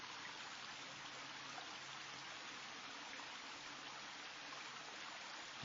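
Stream water flows steadily outdoors in a natural setting, a continuous broadband wash of running water that stays even and fairly faint throughout, with no voices.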